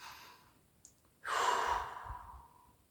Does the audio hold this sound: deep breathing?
yes